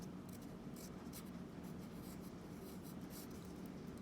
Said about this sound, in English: So we always answer in complete sentences. So you would write Jada lived